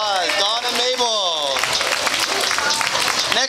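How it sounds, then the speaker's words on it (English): Spectators at the York Raw Vegan Fest clap for Dawn and Mabel after their acro yoga routine. A voice is heard at first, then the crowd's steady clapping fills the rest. "Give it a round of applause, Dawn and Mabel"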